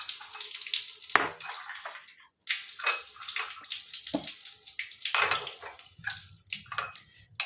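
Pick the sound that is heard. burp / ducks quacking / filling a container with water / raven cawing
filling a container with water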